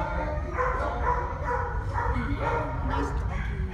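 A dog in a shelter kennel barks and yips in short repeated bursts, close and fairly loud, as someone speaks to it affectionately over the noise.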